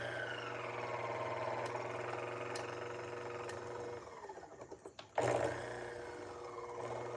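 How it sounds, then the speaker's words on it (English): A $600 coffee grinder runs with a steady motorized whine as its burrs touch, giving a rough grinding scrape that rises to a brief louder burst near the end. "The burrs are now touching. You can hear them touching."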